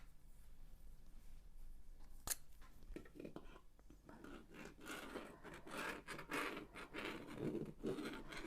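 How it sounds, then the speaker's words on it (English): Scissors snipping through fabric to cut out a circle for a drawstring cosmetics bag, a quiet series of close crisp cuts and scrapes that grow busier toward the end. "I'm just going to draw a circle and then cut it out."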